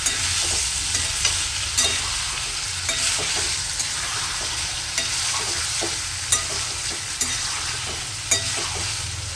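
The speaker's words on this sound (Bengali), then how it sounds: "আদাটা দেওয়ার পর এইভাবে আবার নেড়ে চেড়ে নেবেন।" Chicken and ginger paste being stirred in a frying pan: a steady, close sizzle of frying with scraping spoon strokes against the pan at irregular intervals. No voices.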